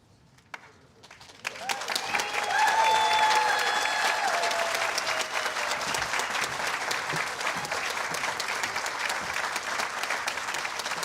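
Sustained applause from a commencement crowd for the graduating class of 2020 at Ursuline Academy, rising after a brief pause into dense, steady clapping that holds loud and even to the end.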